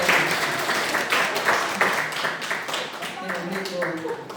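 A church congregation at a Sunday service applauds in steady, fairly close clapping that runs the whole time, with voices talking softly underneath.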